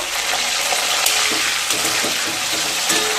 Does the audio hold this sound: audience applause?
no